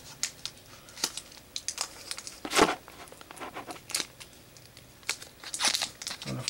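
Scissors snipping and crinkling open the foil wrappers of Magic: The Gathering Shadows over Innistrad booster packs, a run of close, sharp crackles and crunches with a louder tear near the middle, no voices.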